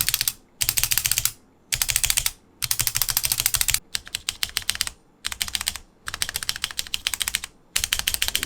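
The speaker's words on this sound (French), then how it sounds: "Les stabiliseurs ne sont pas lubrifiés de base, ce qui fait un bruit très métallique." QPAD mechanical keyboard with unlubricated stabilizers typed on in quick bursts separated by short pauses, crisp close clicking with a metallic rattle on heavier keystrokes.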